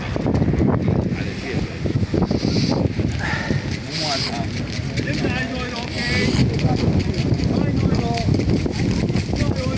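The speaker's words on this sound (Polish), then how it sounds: "Wieje niesamowicie, naprawdę naprawdę tragedia się robi" Strong wind buffets the microphone in continuous loud gusts at an outdoor flea market in Germany, with muffled voices talking underneath throughout.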